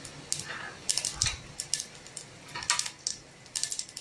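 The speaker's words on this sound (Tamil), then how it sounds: "எண்ணெய் காஞ்சதுக்கப்புறமா கடுகு உளுந்தம் பருப்பு சேர்க்குறேன்" Mustard seeds and urad dal dropped into hot oil in a pan while cooking Tamil paruppu kuzhambu: a quiet scatter of sharp, irregular pops and crackles, some in quick clusters, others spaced apart.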